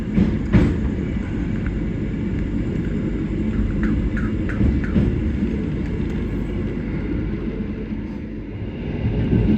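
Night express train on an Indonesian Jakarta–Surabaya run passing Cirebon Prujakan station, a steady loud rumble of wheels and carriage noise with faint clicks throughout, no talk.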